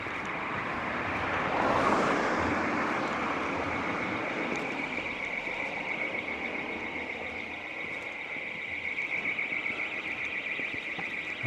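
A building alarm sounds at night on Lord Street, Fleetwood's main street, as a steady, piercing high tone that runs without a break over a broad wash of street and traffic noise.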